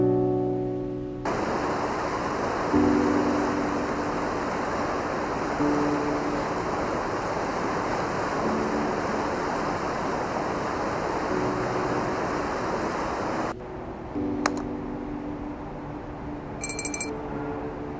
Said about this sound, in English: You hear the birds and the water.